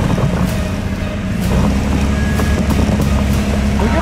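Off-road car engine revving hard in a frozen forest while the vehicle struggles on ice, a steady loud low roar with continuous rumble throughout.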